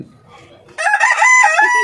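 A rooster among Australian chickens crows loudly and close: one long, strained call that bursts in partway through after a faint, quiet lead-in.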